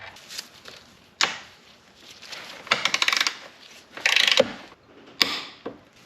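Sharp metallic ratchet clicks and clinks from tightening bracket bolts on a Kawasaki ZX-10R engine during reassembly, arriving in short separate bursts with quiet gaps between them.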